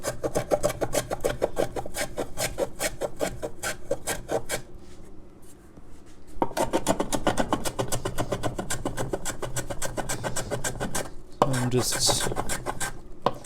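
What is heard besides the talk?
scraping excess guitar binding off the wood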